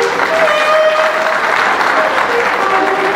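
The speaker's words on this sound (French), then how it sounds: "nous demandons applaudissez courage," Wedding guests clapping loudly and continuously at a marriage celebration, dense applause from a close crowd with a few faint tonal sounds in the background and no speech.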